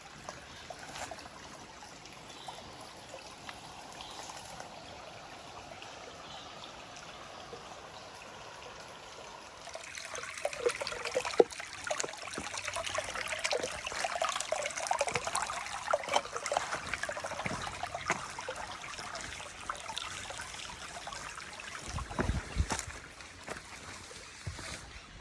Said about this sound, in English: This is as pretty a little mountain creek as you could hope for.